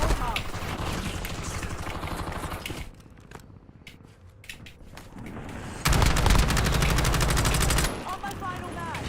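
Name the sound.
sniper gunfire in the video game Call of Duty Warzone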